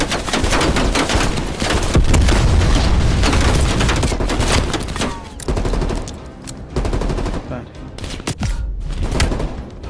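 Rapid gunfire in the Call of Duty Cold War campaign on PS5, dense bursts of automatic fire with booming shots, loud and continuous through the first half, then thinner bursts with brief pauses.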